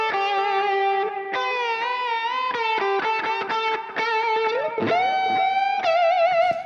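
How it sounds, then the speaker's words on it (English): A heavily distorted electric guitar through a Pulsar Modular P565 Siren filter used as a distortion box plays a string of sustained notes and bends, fuzzy and saturated, with brief gaps between phrases. "we could use Siren more like a distortion box"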